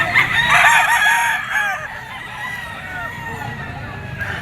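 A white Kelso Firebird stag rooster crows loudly and close, one long harmonic crow followed by a quieter trailing call, while a voice talks faintly underneath.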